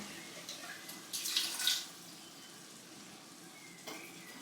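Water is poured into a can and swirled around to rinse it while chili con carne is being cooked, a brief splashy burst in the middle with quiet kitchen noise before and after.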